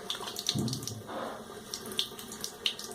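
Tap water running into a sink to rinse dried alum off a freshly shaved head, a steady close splash with small bursts of spatter and no talking.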